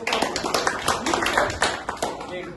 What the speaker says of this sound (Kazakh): Қол шапалақтаймыз